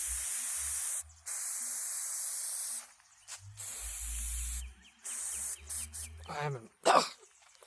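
A disguised pepper spray canister fires in several loud, close hissing bursts of varying length during a test, followed by coughing and throat clearing.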